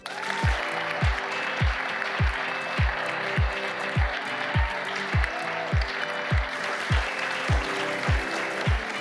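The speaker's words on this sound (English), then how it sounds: "please give a huge round of applause to Ria Former." An audience applauds a second-place winner at a startup demo day. Steady clapping washes beneath a loud, evenly paced thumping beat that pulses throughout.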